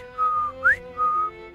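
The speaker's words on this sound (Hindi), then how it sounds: "सीटी बजाते" A person whistles three clear, melodic notes: a long steady tone, a quick rising slide, then another long steady tone, close and alone with no talking.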